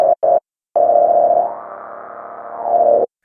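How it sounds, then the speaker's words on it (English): A buzzy Sequential Take 5 synthesizer tone plays two short stabs, then a long sustained note whose thin, high-pass filtered timbre sweeps and shifts before cutting off abruptly. "you can do those sort of band-pass style or high-pass style sounds with it"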